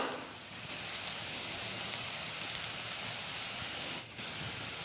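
Curry leaves sizzling in hot oil, an even, bright hiss that holds steady across the whole stretch, close and fairly quiet, with a brief dip near the end and no talking.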